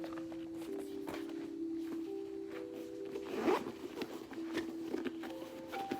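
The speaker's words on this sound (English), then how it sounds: "There's like a zipper thing if you want to put some SD cards or your stash in here" The zipper on a storage case for a DJI Mini 4 Pro drone is pulled open in several quiet, close scratchy runs, with soft handling noises between them.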